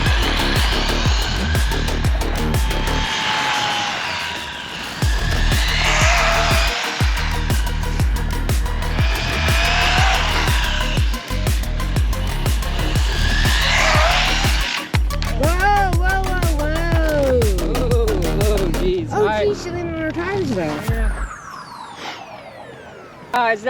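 An Arrma Grom RC car with a budget brushless motor combo runs at full power: shrill motor whine surging in repeated bursts over gritty running noise, ending in fast warbling pitch sweeps as it speeds and tumbles.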